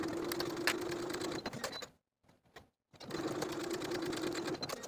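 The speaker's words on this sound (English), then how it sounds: "Sew both notched ends with a 5/8 inch seam allowance" A domestic sewing machine stitches 5/8 inch seams on the facing of a holiday dress, running steadily, stopping for about a second, then whirring again at close range with no talk.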